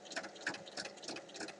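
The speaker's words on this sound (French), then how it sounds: "Et comme pour le premier côté, on vient faire une surpiqûre." Sewing machine topstitching a fabric pouch, a fast, even stitching patter that is fairly faint and close, with no talking.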